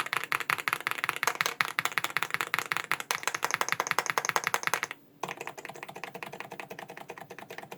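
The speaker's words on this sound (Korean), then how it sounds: "무소음 키보드답게 타건 소리는 그렇게 크지 않은 것 같아요" Fast, continuous typing on a silent-switch Royal Kludge S98 mechanical keyboard with soft, muted keystrokes in a rapid rhythm and a brief pause near the end; no voices.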